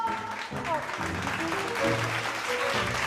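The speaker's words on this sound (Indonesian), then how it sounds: "Tepuk tangan dulu dong." An audience claps at a couples' dance event in a drama series, a steady, moderately distant patter of many hands with background voices and faint tones mixed underneath.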